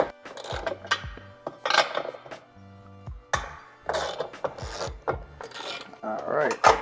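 Ratchet loosening the bolts or nuts that hold the impact bar on a Tesla Model 3 during a hitch install: close, bursty clicking in irregular runs, with pauses between them.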